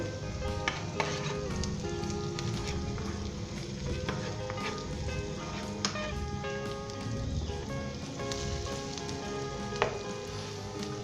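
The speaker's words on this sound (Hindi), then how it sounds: "अब हम इसके अंदर शामिल करेंगे ये सारे स्पाइस। मिक्स कर लें इसे।" Spices sizzling in hot oil with golden-browned ginger for a carrot salan, a steady frying hiss with occasional scrapes and clinks of a spoon stirring the pan, close and continuous.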